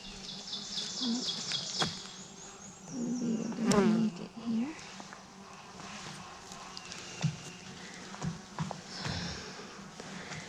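Honeybees buzzing steadily around an open hive during an inspection, a close, continuous drone with a few louder passes of individual bees and faint background sounds, no talking.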